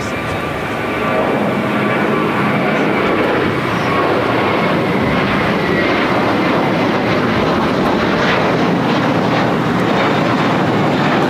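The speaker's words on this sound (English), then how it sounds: "This is Japan Airlines 787-8 Dreamliner heading to Narita, Flight 61" Japan Airlines Boeing 787-8 Dreamliner landing at LAX on runway 25 left, a loud, steady jet roar that fills the whole stretch without letup.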